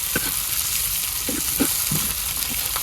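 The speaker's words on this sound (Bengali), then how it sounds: "পেঁয়াজ দিয়ে দিলাম, তেল গরম" Onions frying in hot oil in a village kitchen pan, a steady bright sizzle running throughout with a few soft stirring knocks, close and alone without talk.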